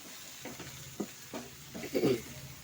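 Prawns and green banana pieces coated in spices are stirred in a pan over a faint, quiet sizzle, punctuated by several distinct spatula scrapes and taps that grow busier near the end.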